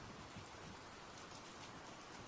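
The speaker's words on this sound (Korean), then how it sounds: "점점 구름은 달을 가리고 비가 내리기 시작한다." Steady, dense rain falls as a sound effect in a Korean horror audio story. It is a continuous even hiss of drops on a surface with no pauses and no voices.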